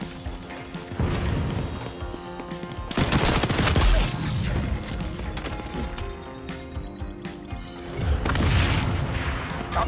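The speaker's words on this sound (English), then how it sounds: "Flashbang out!" A flashbang grenade detonates in the shooter XDefiant amid a busy firefight: loud booms and crashing blasts, bursts of gunfire and a ringing high whine, with clattering game mechanisms throughout and no talk.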